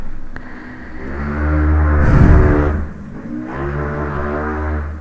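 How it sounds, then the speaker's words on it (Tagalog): A motorcycle engine revs up and passes nearby, its hum rising to a loud roar and easing off, with no talking. "Ayun, ang ingay ng motor."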